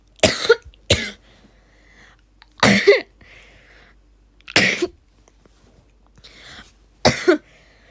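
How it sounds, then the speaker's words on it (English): Five sharp, separate coughs from a person recovering from a sore throat, close to the microphone with short quiet gaps between each. "if I keep coughing."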